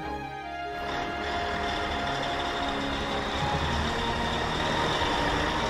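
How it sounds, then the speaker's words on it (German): A truck delivering furniture rumbles steadily nearby, a broad, continuous engine drone that swells slightly at the start and then holds without other sounds. "da ist ja der Lastwagen"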